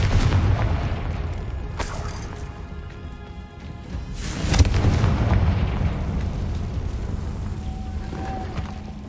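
In Hogwarts Legacy, Confringo fire-blast spells go off as a loud booming explosion followed by a roaring rumble, then a second heavy blast midway that fades into a sustained crackling wash.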